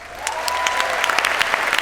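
An audience at a talk on an eclipse photograph breaks into dense, steady clapping, many hands close together, building quickly and holding without pause.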